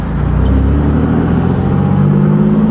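A turbocharged Nissan 370Z Nismo with a slipping clutch pulls hard in second gear, its engine a loud, steady rising drone with deep low rumble throughout and no voices over it.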